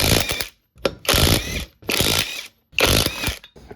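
An impact wrench with a 21mm socket spins lug nuts off a Toyota Camry wheel in four loud, rattling, hammering bursts separated by brief pauses, up close with no voices.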